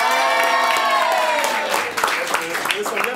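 An audience at an improvisational theatre show bursts into loud applause and cheering, a dense, steady wash of clapping with shouted voices and whoops on top.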